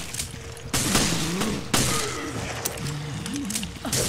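Gunfire in Resident Evil Revelations: a few loud, sudden shots burst out over a steady game ambience, with tonal background sounds in between and no speech.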